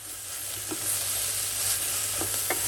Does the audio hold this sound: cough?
no